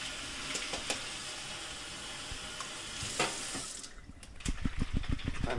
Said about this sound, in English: And if they're stuck in there, just pour some water in the can.